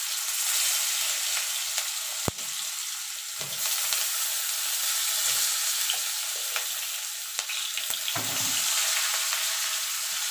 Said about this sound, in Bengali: প্রথমে আলুগুলোকে ভেজে নেব